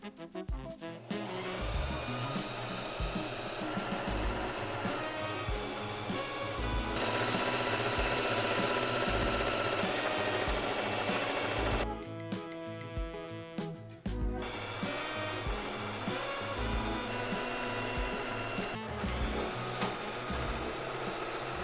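A sewing machine runs steadily with a fast mechanical stitching rhythm, sewing curtains for a Mini Cooper micro camper, pausing briefly and restarting, loud and close with no voices.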